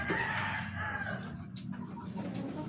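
Seven-month-old laying hens clucking in a backyard flock, a steady dense murmur of overlapping clucks held close and fairly loud for the whole stretch.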